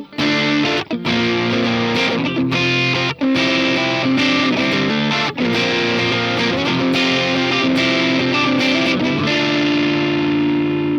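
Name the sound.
electric guitar through Donner Arena 2000 tube drive effect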